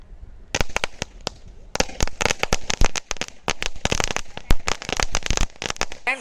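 A golden line firecracker bursts in a rapid string of sharp, loud cracks and pops, close by, with a brief pause near the start before the crackling continues densely.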